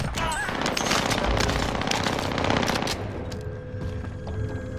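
Gunfire from the Call of Duty Warzone video game, with rapid close bursts of shots and booms in a dense, continuous barrage that thins out toward the end.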